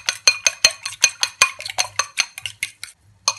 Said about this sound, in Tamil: போட்டுட்டு இதை நல்லா அடிச்சுக்கொள்ளுவோம்.